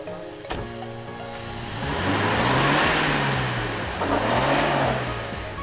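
A car stuck in mud revs its engine hard, rising and falling in two long surges as the wheels spin, close and loud, with no talk.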